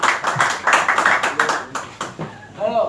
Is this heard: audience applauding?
yes